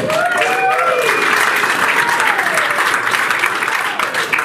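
An audience at a mining alliance meeting applauds and cheers, loud sustained clapping with whoops and shouted voices rising above it, filling the room throughout.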